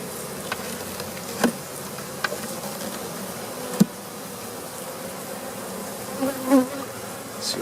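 Honey bees hum steadily around an opened hive fitted with Flow frames during an October honey harvest, a close, continuous drone with a few faint knocks and clicks, and no talking.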